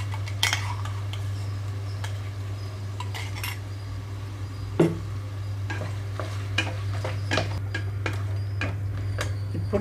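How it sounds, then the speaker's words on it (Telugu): Green chillies, tomato and mint masala paste frying on medium flame for vegetable pulao, with a soft steady sizzle, occasional clinks of a spoon stirring the pan, and a constant low hum underneath. "2 నిమిషాల పాటు వేయించుకుంటున్నాను ఇక్కడ."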